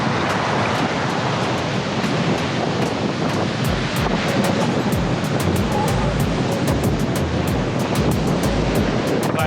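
Waves breaking on the shore of Lake Nicaragua, the largest lake in Central America, a continuous loud surf wash with wind buffeting the microphone and scattered crackling bursts throughout.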